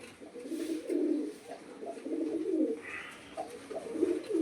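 A pigeon coos close by in low, throaty rolling bursts, several repeated phrases with short pauses between them, with faint background noise and no talking.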